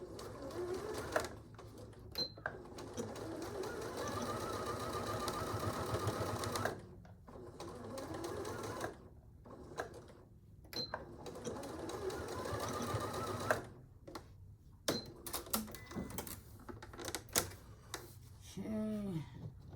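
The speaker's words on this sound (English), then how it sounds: "sewing machine is just trimming too much, not trimming enough thread." Nearby sewing machine stitches in rapid rhythmic runs, pausing briefly between bursts, with a few faint clicks and rustles in the gaps.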